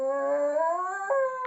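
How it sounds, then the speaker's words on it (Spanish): A dog howls in one long, steady rising note lasting over a second, close and clear with no other sounds. "de nuevo se escucha ese aullido."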